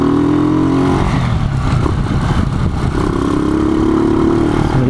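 A 2009 Honda TMX 155 manual motorcycle engine runs steadily and loud up close, its low throbbing drone holding throughout with slight rises and dips in revs, and no talking.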